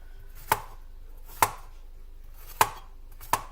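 A knife chopping green pepper on a cutting board, with four sharp, separate thuds spaced unevenly over a quiet background.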